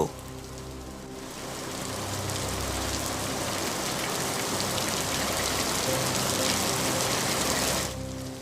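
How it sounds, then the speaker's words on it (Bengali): Steady rain pours down in a dense, even hiss, swelling in after a moment and cutting off near the end. "শুধুই বৃষ্টির শব্দ"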